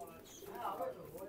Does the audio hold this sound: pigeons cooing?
yes